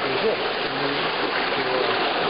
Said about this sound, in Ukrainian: І ця вода от тече